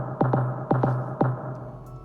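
Three short pitched musical figures, each a long dotted eighth note followed by a quick sixteenth note, forming a clear long-short rhythm played cleanly and close with no other sounds.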